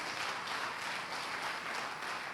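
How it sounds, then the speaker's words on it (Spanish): A church congregation claps for the Lord during a sermon, a continuous, evenly textured wash of applause that sounds distant and fairly quiet throughout. "dale un aplauso al Señor"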